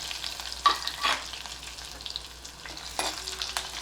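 Spices, a green chilli, round red chillies and curry leaves sizzle softly in hot oil as tempering for Gujarati kadhi, with a few louder crackles and stirring scrapes standing out over the steady hiss.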